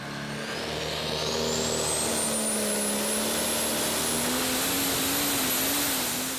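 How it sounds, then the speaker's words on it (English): A prostock pulling tractor's Sisu engine with a single turbo roars loud and steady while a high turbo whine climbs in pitch and holds, at a tractor pulling event in Herning, Denmark. "It's a Sisu engine and a single hull set turbo."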